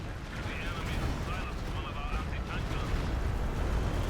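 An artillery barrage booms continuously in the World War II strategy game Company of Heroes 2, dense rumbling explosions and gunfire layered under a commentator's voice.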